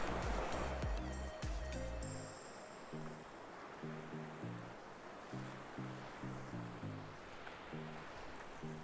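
Steady broad rushing of a big runoff river on a mountain trail at Box Elder Peak, loud and continuous, with some low thumping and handling noise over the first two seconds.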